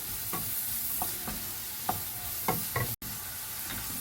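Onion cooks in oil with curry leaves, ginger and garlic, giving a steady, close sizzle punctuated by regular scrapes of a spoon against the pan, with no one speaking.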